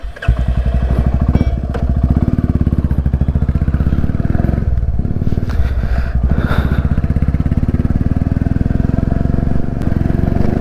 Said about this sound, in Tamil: வாங்க இந்த வண்டியில் ஒரு ரைட் போய் பார்ப்போம்